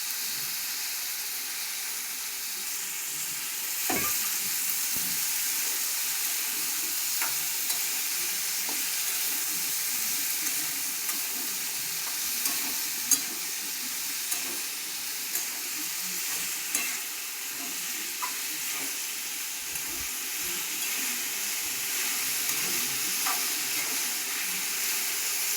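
Cauliflower florets frying in a pan give a continuous even sizzle and hiss, with scattered scraping clicks as they are stirred, steady and close throughout.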